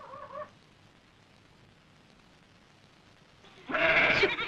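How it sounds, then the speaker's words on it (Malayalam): A goat bleats in a rural setting, a short call at the start and then a louder, longer wavering bleat near the end, with quiet ambience in between. "ആട് കരയുന്നു."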